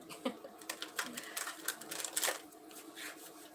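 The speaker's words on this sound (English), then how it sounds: "I'll do one more shuffle and then we'll see." A tarot card deck being shuffled, giving a run of crisp, irregular riffling and flicking bursts up close at low volume, with no speech over it.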